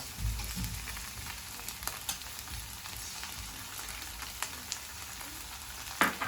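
Red chili sauce goes into a hot pan of Thai-style chicken and sizzles steadily, with a continuous frying hiss, scattered pops and a few scrape-like clicks throughout.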